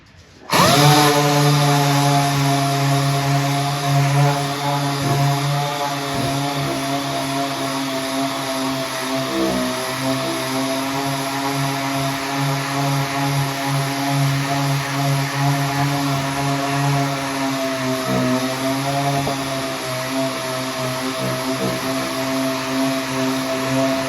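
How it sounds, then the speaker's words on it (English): A power sander runs continuously on the surface of an old Stargate/Tetris arcade cabinet, a loud steady motor whine with slight wavering in pitch as it presses against the wood for over twenty seconds. "sand on here for a second and see what it does"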